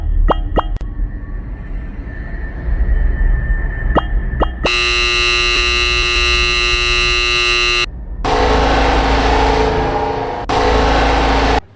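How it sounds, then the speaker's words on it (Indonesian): An alarm goes off in a horror video game after a wrong door code is entered: a few sharp clicks and beeps, then a loud harsh buzzing alarm that blares in long pulses with short gaps. "tiba-tiba terdengar suara alarm berbunyi"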